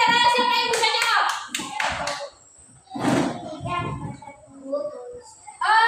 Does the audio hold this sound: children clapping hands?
yes